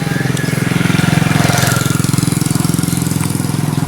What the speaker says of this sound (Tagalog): May motor dumaan.